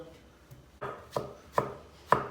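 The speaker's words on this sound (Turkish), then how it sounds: "Bir tane de ufağından soyulmuş domates doğrayacağım." A knife chops a peeled tomato on a cutting board, four firm thuds with gaps that shorten, each one louder than the one before, close and clear.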